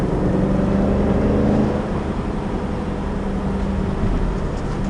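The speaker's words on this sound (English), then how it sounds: "I love listening to those shifts" A Jeep SRT engine drones loud and steady under acceleration, with rising harmonic sweeps that break at a gear change about halfway through, then pull again with no talk over it.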